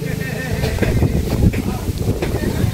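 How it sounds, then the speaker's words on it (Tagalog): Wind rumbles and buffets the microphone continuously while someone speaks over it. "Ang ganda dito ang hangin."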